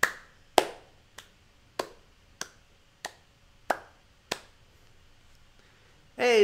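A person claps slowly in a steady, even rhythm, about eight crisp, close claps spaced evenly apart with quiet gaps between them, ending in a sudden louder burst of sound.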